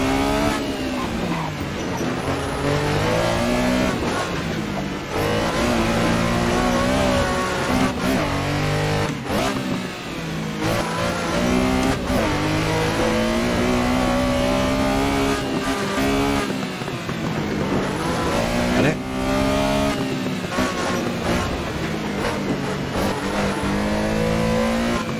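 A Porsche 911S Group 4 rally car engine in a racing game revs hard and continuously, rising and falling through gear changes with occasional tire noise, loud and close, with no talk.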